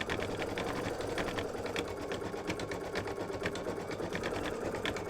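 An embroidery sewing machine stitching a red heart design in the hoop, a rapid steady needle chatter with a mechanical whir, close and continuous, no talking.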